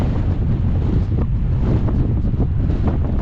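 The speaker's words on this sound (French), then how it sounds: "aujourd'hui, il y a un vent incroyable." Strong 65 km/h south wind with 90 km/h gusts roars steadily into the microphone while cycling on Santorini and Rhodes, a loud, buffeting rush with gusty swells throughout and no voices.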